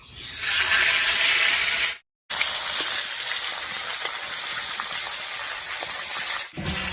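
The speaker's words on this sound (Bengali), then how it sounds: "এবারে মাছের মাথাটা ভেজে নিচ্ছি।" Fish head frying in hot mustard oil in a wok: a loud, continuous sizzling hiss that cuts out briefly, resumes at full strength, then dips near the end, close and with no talk.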